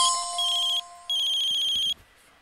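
Cell phone ringtone inside a video game, a bright electronic melody playing in two loud bursts with a short gap, then stopping; no talk over it.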